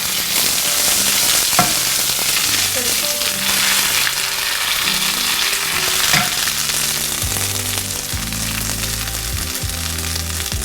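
Cumin, ginger and green chilli fry in hot oil in a pan, giving a dense, loud, continuous sizzle with crackles and occasional clinks of a utensil stirring.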